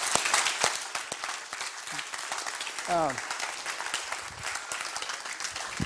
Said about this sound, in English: he just needs a round of applause for all that